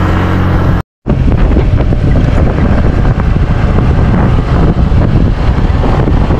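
A motorboat engine drones loud and steady with heavy low rumble and wind buffeting the microphone, briefly cutting out near the start before resuming.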